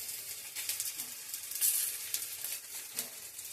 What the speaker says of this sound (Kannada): ಹೆಂಚು ಮೇಲೆ ಬೇಯ್ತಾ ಇದೆ ರೊಟ್ಟಿ